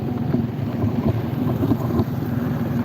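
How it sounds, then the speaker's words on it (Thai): Strong evening wind buffets a microphone outdoors near mountains, a loud, continuous rumbling roar with uneven gusty pulses throughout. "เสียงลมอาจจะดัง"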